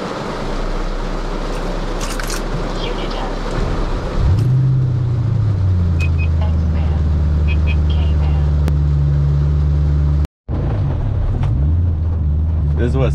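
Ford Mustang GT pulling out of a muddy dirt driveway in the rain, a steady low engine drone rising after a few seconds and holding loud and close, with wind buffeting and a brief cutout.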